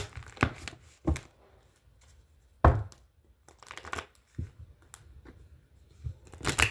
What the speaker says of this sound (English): I'm going to give it 2 shuffles